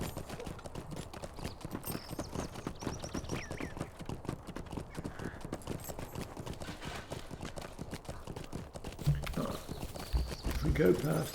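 In the video game Lord of the Rings Online, the horse Shadowfax trots along with steady, rhythmic clip-clopping hooves, faint and continuous, while someone talks over it.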